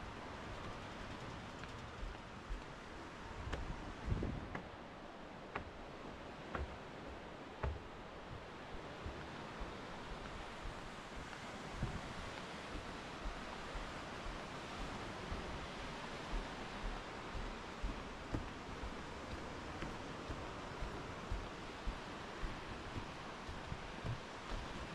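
Sea waves at Lagoufa Beach near Makrigialos, a steady broad wash of surf with soft gusty wind noise on the microphone, fairly faint and continuous, with no one speaking.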